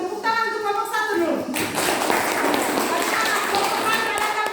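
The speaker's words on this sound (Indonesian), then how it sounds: "Tepuk tangan untuk kelompok 1 dulu" A classroom group claps for the first presenting group in a school lesson. A teacher's voice is heard first, then a burst of dense, close applause that carries on to the end.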